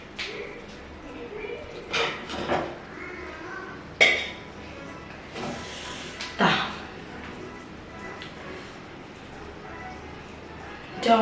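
Fish curry spooned from a pan into a dish, a few scattered metallic clinks and scrapes of utensil on cookware between pauses, heard under a person talking.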